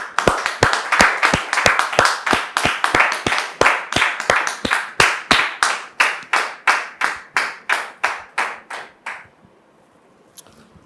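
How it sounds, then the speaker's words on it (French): Rhythmic unison clapping from a television studio audience, loud and evenly paced, slowing and thinning before stopping near the end, followed by near silence. "comme on sait si bien le faire, sous vos applaudissements"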